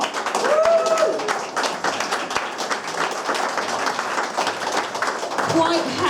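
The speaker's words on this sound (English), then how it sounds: "A round of applause." An evening audience applauding a newly introduced chairwoman, a sustained, dense patter of clapping throughout, with voices and cheering mixed in.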